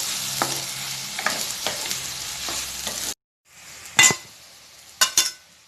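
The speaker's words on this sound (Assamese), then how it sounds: "তাৰপিছত এইখিনিও এতিয়া অলপমান ভাজি ল'ব।" Crushed ginger and garlic frying with onions in a pan for pigeon curry, a steady close sizzle stirred with a few soft scrapes, then a pause and two sharp clinks of a utensil against the pot.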